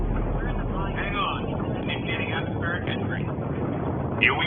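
A shuttle in Mass Effect Andromeda making atmospheric entry gives a steady, heavy rumbling roar that holds level throughout, with voices talking over the din.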